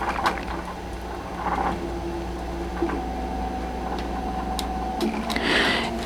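A Tajima Sai embroidery machine tracing a patch design outline in its hoop, a steady low mechanical hum with light ticking and occasional soft clicks and whirs, running alone at moderate level.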